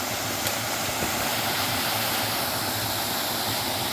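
Craig Hall Waterfall in Tobago pours with a steady, loud, broadband rush of falling water, constant and unbroken throughout, heard up close with no talking.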